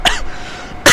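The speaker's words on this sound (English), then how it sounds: "I apologise, I have a cough." A single short, sharp cough from a person, close and loud, followed by a brief breathy burst at the end.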